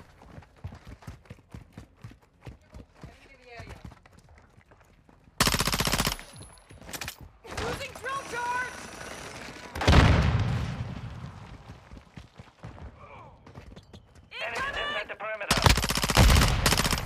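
Repeated shotgun blasts in a shooter video game, loud bursts of gunfire at close range in several clusters, with quieter stretches of game sounds between them.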